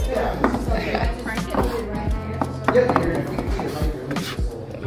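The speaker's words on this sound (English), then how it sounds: "And then you're just gonna start chopping it all together." Rapid, repeated knife chops on a cutting board, close and loud, with kitchen clatter and people talking in the background.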